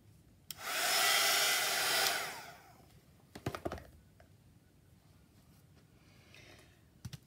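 A hair dryer blows briefly on a mixed media art journal tag with wallpaper, a close steady whoosh lasting under two seconds, followed by quiet handling taps and clicks.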